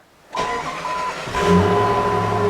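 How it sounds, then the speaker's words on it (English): On a cold morning around 38 degrees, a starter whirs briefly before a Jeep WJ's 4.7L V8 catches and settles into a steady, throaty idle close by, with a misfire. "All right, so Jeep's fired up."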